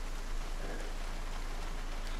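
Steady rain falling in the zombie survival game Project Zomboid, a dense even hiss of drops with no breaks, soft and continuous throughout and no voices.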